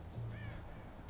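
A crow caws faintly once outdoors in Tomb Raider, a short drawn-out call over a steady low ambient rumble.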